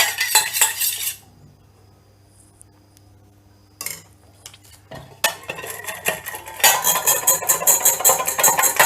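Oil and sugar whisked together in a bowl for a jaggery cake, bursts of quick clinking metal-on-bowl strokes at the start and end with a quieter gap between, no talking.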